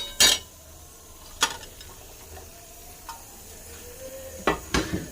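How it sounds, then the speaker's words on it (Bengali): Soybean chunks and potato stir-fried in spices for a Bengali curry: a faint sizzle under sharp clicks and scrapes of a spatula against the pan, a few strokes spaced irregularly. "আলুর সাথে সয়াবিন ভালো করে কষিয়ে নেব"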